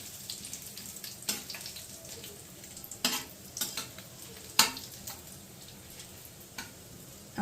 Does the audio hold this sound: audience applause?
no